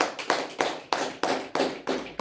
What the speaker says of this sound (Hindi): तो उस बुलाहट के लिए परमेश्वर का जोरदार ताली बजाओ।